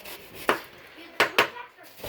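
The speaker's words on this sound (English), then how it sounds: "Just keep dragging that knife around in a circle and clean off all of the skin and the rind." A knife cutting the rind off a watermelon on a board, four sharp knocking cuts at uneven intervals with quiet scraping between them.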